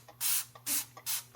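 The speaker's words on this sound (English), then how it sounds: "I just spray a little bit of that on there" Three quick bursts of Dawn Power Wash sprayed from a trigger bottle onto a knife blade being cleaned after engraving, each a short close hiss with small clicks of the trigger between them.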